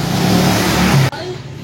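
A ported motorcycle engine with a rough-sounding block revs loudly and close with a harsh, gritty drone. The revving cuts off abruptly near the end and is followed by a quieter, lower idle.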